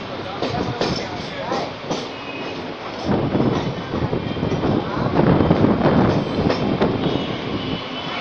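Mumbai local train rolling into Churchgate station, a loud continuous rumble with clattering wheels and wind buffeting the microphone, the noise swelling toward the end.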